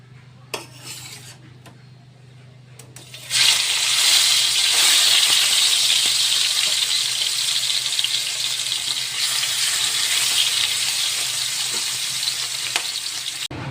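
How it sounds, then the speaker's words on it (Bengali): Hilsa fish hits hot mustard oil in a pan with a sudden loud sizzle that settles into a strong, steady frying hiss, after a few quiet clinks of utensils. "সর্ষের তেল দিয়েছি এবার দিয়ে দেব ইলিশ মাছ"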